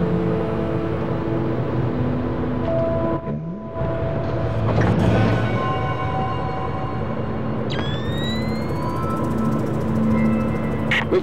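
A train in the video game Splinter Cell: Pandora Tomorrow, a loud steady rumble of rolling carriages with droning tones and a few screeching metallic squeals, while voices talk over it.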